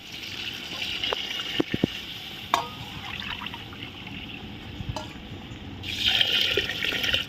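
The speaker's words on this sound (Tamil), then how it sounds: "நான் இதை 4 கப் அளவுக்கு வாட்டர் வந்து மிக்ஸ் பண்ணிக்கிறேன்." Water poured into rice while making chicken biryani, a steady liquid pour and trickle at close range with a brief splashier surge near the end, no talking over it.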